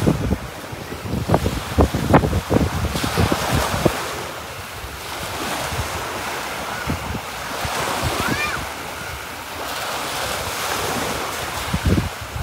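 Ocean surf washes onto a beach in a continuous roar, with strong wind buffeting the microphone at the start and occasional gusts later.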